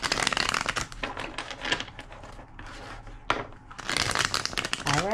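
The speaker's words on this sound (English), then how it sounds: "Two more shuffles." Rapid crisp riffling of playing cards being shuffled, several bursts in a row, close and fairly loud, with no talking.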